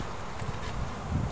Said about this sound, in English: There's still some bees left in there.